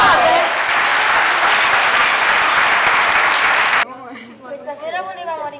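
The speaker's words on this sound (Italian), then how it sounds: "Un applauso, ce lo fate!" Audience applause after a theatre workshop performance, with loud sustained clapping for most of the clip that cuts off abruptly, followed by a voice speaking.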